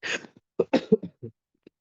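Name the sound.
cough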